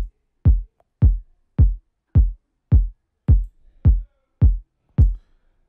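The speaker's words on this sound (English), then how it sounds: "So this is what the kick sounds like." A steady afrobeats kick drum hits nine times at an even pace, each hit a deep, punchy thump followed by near silence.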